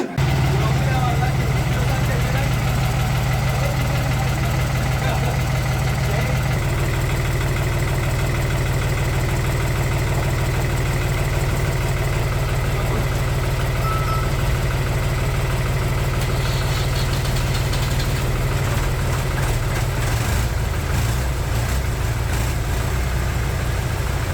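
A grandfather's 1972-model tractor engine, just brought back to life after years of sitting, idles steadily and loudly up close with a low, continuous rumble throughout, while people talk over it.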